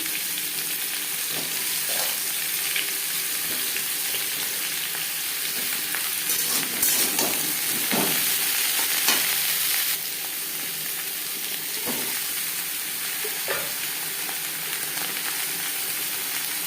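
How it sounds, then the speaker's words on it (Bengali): Pointed gourd and potato fry in a pan with a constant loud sizzle and hiss. Scraping strokes from stirring come through at irregular moments, with no talking. "আর দিয়ে দেবো পটল আপনারা চাইলে আলাদা করে ভেজে নিতে পারেন"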